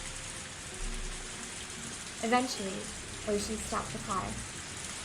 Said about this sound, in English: The only sound to break the silence was the percussion of the rain on the roof